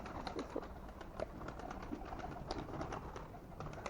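Pigeons cooing softly while being flown, repeated low coos and bird calls over a steady outdoor background, moderately near and continuous without talk.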